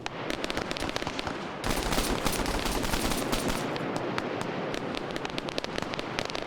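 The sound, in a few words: machine gunner firing in a video game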